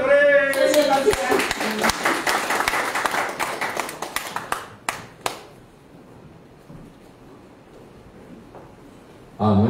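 An audience at a talk claps after a short spoken line. The scattered claps thin out into a few isolated hand claps and then fall quiet.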